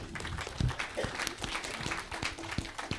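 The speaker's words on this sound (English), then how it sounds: "Then a big applause for the Minister of Norway." Faint applause for Norway's minister at an event on climate adaptation finance, a thin patter of scattered claps heard from a distance over a few seconds.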